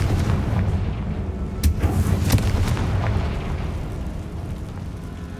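Spell explosions from Bombarda and Confringo in Hogwarts Legacy, a continuous rumbling blast with a couple of sharp cracks partway through, loud and dense with no talk.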